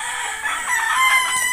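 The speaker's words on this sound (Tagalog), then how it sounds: "Ito yung aking mga alagang manok." Backyard chickens raised on a rural provincial farm, with a rooster crowing and hens clucking close by, a steady, busy stretch of bird calls and no talking.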